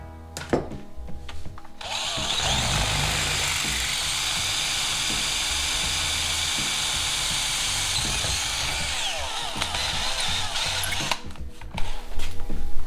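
A power drill bores steadily into a round workpiece during a tractor restoration, a loud, continuous whine lasting about nine seconds, with brief clatter before it starts and after it stops.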